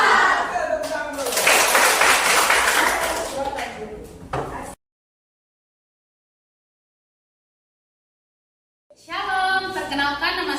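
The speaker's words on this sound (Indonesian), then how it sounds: "Oke, tepuk tangan dulu." A classroom group of students claps hands together in a dense burst for about four seconds, then everything cuts to silence before voices return briefly at the end.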